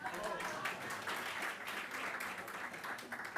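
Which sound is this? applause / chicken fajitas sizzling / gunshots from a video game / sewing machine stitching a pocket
applause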